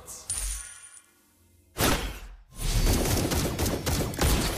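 Granger's gunfire in the mobile game Mobile Legends, a burst of bullet shots with a brief whoosh, then a dense, loud stretch of rapid firing and impacts.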